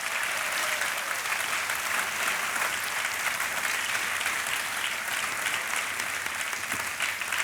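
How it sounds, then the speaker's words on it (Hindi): Loud, sustained applause from a studio audience on the KBC Under 25 quiz show set, steady and dense for several seconds without any talk over it. "जोरदार ताली बज जाए इनके लिए"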